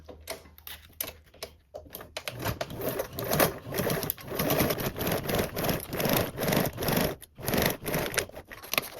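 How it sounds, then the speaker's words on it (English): Sewing machine running in steady bursts while top stitching joined seams at a 1/8 inch allowance, with short pauses and a quieter start before continuous close stitching. "you can top stitch both of your joined seams on the top side and the bottom with a 1/8 seam allowance"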